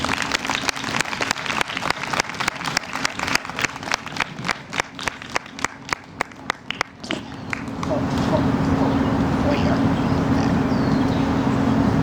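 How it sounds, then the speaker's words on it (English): An outdoor audience at a Wear Orange gathering in a park claps in a steady, dense round of applause that thins into scattered individual claps, then gives way to a broad wash of crowd noise and murmuring. "a round of applause again for Dr. Foyer"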